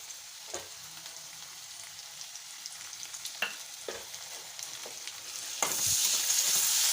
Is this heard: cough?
no